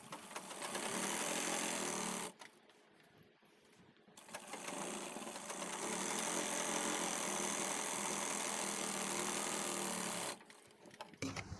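Sewing machine stitching a zipper onto travel bag fabric, running in long steady bursts with brief pauses between them, close and fairly loud.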